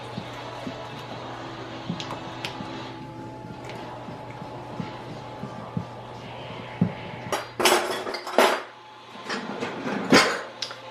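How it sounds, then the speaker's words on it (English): Utensil scraping and clinking inside a cooking pot while ingredients are stirred in a home kitchen, soft at first, then louder, with a few sharp metallic strikes near the end and a dog barking faintly. "And stir that in."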